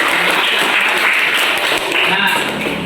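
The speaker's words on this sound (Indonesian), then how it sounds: "Tepuk tangan lagi untuk kita semua." Applause from pupils in a school classroom after a lesson, a steady, fairly loud wash of clapping with voices mixed in throughout.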